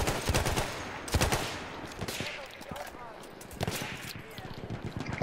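Sniper gunfire in the Battlefield 1 video game: several sharp shots crack at irregular intervals among continuous battlefield noise, with a voice speaking briefly in between.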